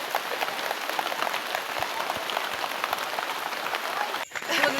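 Heavy rain pounding down outdoors at a rural farm, a dense, steady hiss and patter that stays loud throughout, with a brief dip near the end.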